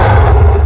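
A Minecraft Ravager roars after its attack is blocked by a shield, a short, loud, deep guttural bellow held steady throughout.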